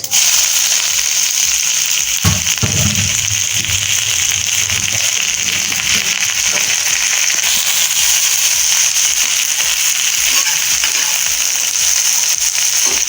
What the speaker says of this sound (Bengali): গরম তেলের ওপর দিয়ে দিলাম গোটা গরম মশলা, একটু সাদা জিরে, কুচানো পেঁয়াজ